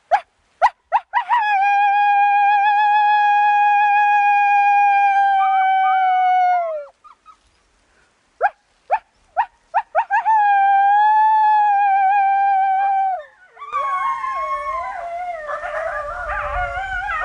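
Wolves at Wolf Park howl loud and close, giving long sustained rising and falling howls. Short yips and barks come between them, and a second voice joins in wavering overlapping tones at the end.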